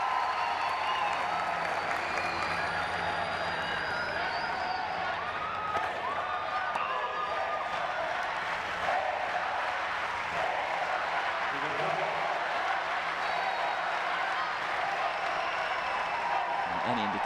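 Crowd applause and cheering fill a stadium at a Rio 2016 Paralympic wheelchair tennis match, a steady, loud wash of clapping sustained throughout with a commentator's voice over it.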